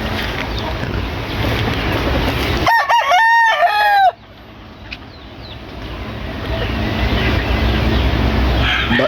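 A grey stag rooster gives one loud, close crow over a steady wind-like background. Softer clucks and distant calls follow as the noise level drops.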